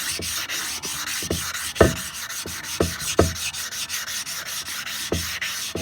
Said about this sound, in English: start sanding